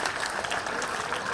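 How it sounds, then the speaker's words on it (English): An audience at a school Founder's Day event gives brief, dense applause for small children. The clapping is close and continuous throughout. "Please clap first. for these small children."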